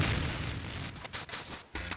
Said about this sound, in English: we can probably test out this cannon